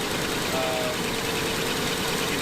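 A Jaguar car engine runs at a steady idle after being started, a continuous close mechanical drone with a faint whine, and a voice speaks briefly over it.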